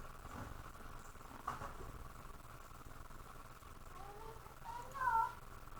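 A cat gives a faint meow toward the end, over a low steady background hum, with a voice talking in the background.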